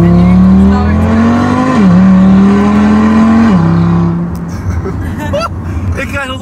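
A 640 hp Audi RS3 widebody roars close by under hard acceleration, a loud, rising engine drone with gear-change dips that then fades away, followed by excited voices talking.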